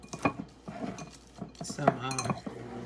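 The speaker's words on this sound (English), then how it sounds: "So now I'm getting a fork, and you got to mash all this together." A metal fork clinks and scrapes against a bowl as it mashes deviled egg filling, making a run of close, irregular taps and scrapes with brief pauses.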